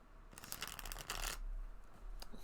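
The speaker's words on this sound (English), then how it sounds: "I want to shuffle these up good because I had all the majors all bunched up." A tarot card deck is shuffled by hand in quick riffling bursts, a dense papery flutter, then a pause and a few softer card taps, recorded close and quiet against a low hum.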